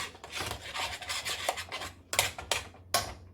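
A metal spatula rasps across a hot cooking burner to scrape off charred bits from meatballs and franks, with a run of gritty scrapes followed by three sharper, louder strokes, close and with no talk.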